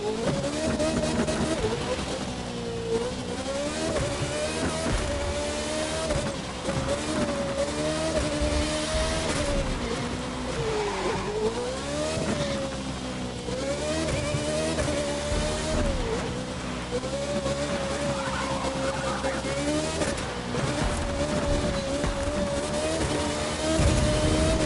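Race car engine in The Crew 2 video game, an Alpha Mark car: loud, continuous engine drone that rises and dips through gear shifts and revs, with occasional tire squeal, talk underneath.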